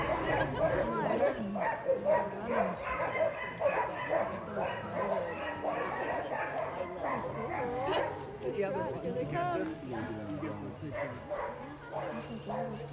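Sled dogs in Denali National Park, Alaska bark, yip and whimper continuously in a dense, excited chorus close by, with people talking over the noise.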